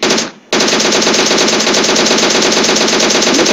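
Gunfire in the mobile battle royale game PUBG Mobile: a rapid, loud, continuous burst of automatic fire, briefly interrupted once near the start, then sustained to the end.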